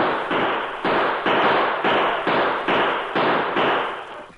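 Rapid volley of gunshots in an old-time Western radio drama shootout between a posse and outlaws, about nine loud cracks in quick succession, each with a short tail, no talking over them.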